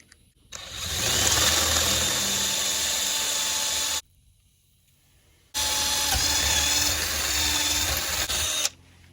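A 3/16 drill bit bores a pin hole in the spare tire carrier lock of a 1970s Ford pickup, in two long, loud, steady whirring runs separated by a short pause.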